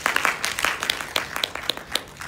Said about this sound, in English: Give me a big round of applause